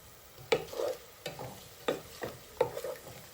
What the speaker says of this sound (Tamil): இப்போ வதக்கிப்போம்